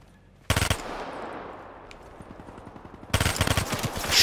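Man o' War rifle fire in the multiplayer mode of Call of Duty Black Ops 3: two loud bursts of close shots, about half a second apart from each other, with a long rumbling tail between them.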